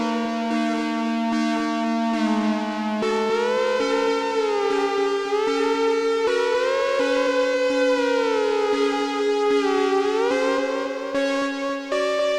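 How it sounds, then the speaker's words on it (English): Crush delay effect on a synth part, a loud, very wet sustained tone whose pitch glides up and down in siren-like sweeps, with delayed repeats smearing each note into the next. "here is that crush delay sound that forms the basis of the dry mix for Dad's parts"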